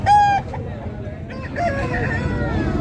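An Aseel rooster with dark eyes crows loudly and close at a busy Saturday fowl market in Mydukur, Kadapa, the call rising sharply then trailing off over a steady crowd murmur.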